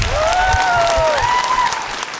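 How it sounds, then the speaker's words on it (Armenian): Audience applause at a talent-show audition for a dance academy: dense, loud clapping filling the room, with a faint voice tone drifting over the top before the clapping thins out at the end. "բրավո, մի հատ էլ ծափ տանք։"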